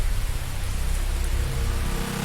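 Steady rain hisses down in a dense, even wash of noise in an anime episode, close and constant with no other sounds standing out.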